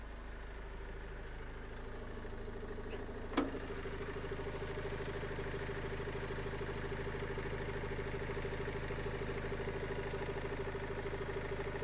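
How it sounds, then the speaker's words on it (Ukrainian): A Renault Trafic 2010 van's 2.0-litre 115 hp engine idles steady and low, running evenly throughout, with one brief click near the start and no voices. "Чути, як він працює, він ну, ідеальна робота мотора дійсно"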